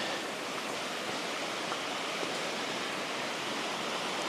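Steady, even rush of running water from a small mountain tributary tumbling into a creek on the Snakeden Ridge trail in Tennessee, continuous and fairly close with no voices.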